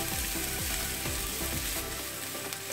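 Sea bream frying in a pan with a dense, loud, continuous sizzle and crackle, close up and steady throughout.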